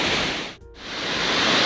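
Steady broadband rush of a small waterfall pouring off a rock edge in a rainy Hocking Hills gorge, a continuous close wash of falling water with a brief dip near the middle.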